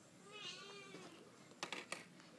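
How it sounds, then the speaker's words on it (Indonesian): A pet cat gives one drawn-out, wavering meow indoors, faint and a little distant. A few sharp clicks and handling noises follow. "Maaf ya, ada kucing aku."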